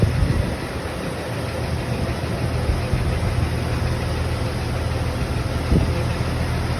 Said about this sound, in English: we're waiting for our AC compressor to kick on here shortly